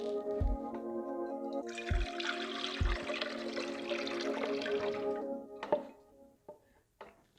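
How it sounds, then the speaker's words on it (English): Water pours steadily into a mixing bowl for deep-dish pizza dough for several seconds, with a few knocks and clinks around it. The pour is close and moderately loud over a low kitchen hum. "We're gonna put in the water first"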